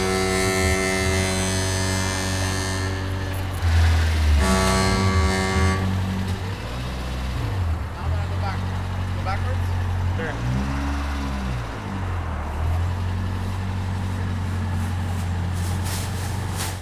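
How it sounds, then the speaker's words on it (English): A sticking brake pad rubbing on a moving car, a JDM import, heard as a steady droning hum and buzz under road noise, with a few rising and falling tonal sweeps as the car rolls back; people talk briefly. "that noise right there we determined was just a sticking brake pad"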